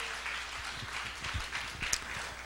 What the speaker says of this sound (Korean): 큰 박수로 환영합니다.